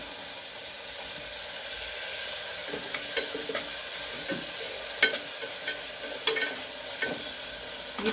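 Chopped tomato sautéing in hot oil with turmeric, a bright continuous sizzle and hiss with occasional soft stirring clicks and scrapes, close up and without talk.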